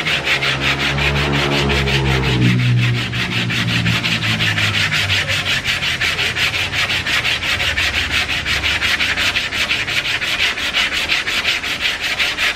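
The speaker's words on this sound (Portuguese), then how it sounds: "Agora eu vou lixar aqui." Hand sanding of polyester body filler on a car panel: steady, continuous abrasive rubbing strokes, close and loud, running without a break and with no talk.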